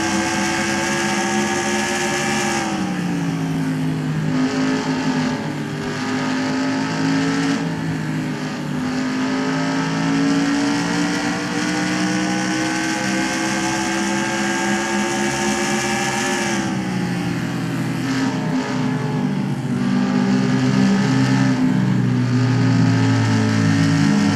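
Stock cars racing in the NASCAR Racing 2003 sim, the 2018 Monster Energy Cup TicketGuardian 500, with loud, steady engine drones whose pitch sweeps up and down as cars pass and shift, a continuous pack roar with no talk.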